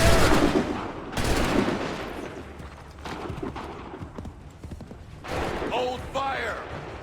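Musket volleys crack loudly in a game battle set in the American Revolution era, with several sharp blasts and rolling echoes, a dense burst at the start and more shots later, alongside clattering background activity.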